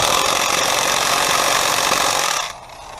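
A Chicago Electric 1/2-inch electric impact wrench from Harbor Freight hammers loudly and continuously while removing tight nuts, a harsh rattling whir close by that cuts off near the end, leaving a quieter room.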